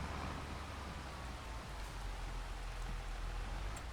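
Steady rain in the farming video game Farming Simulator 25, a constant broadband hiss with no distinct drops, even and moderately quiet throughout.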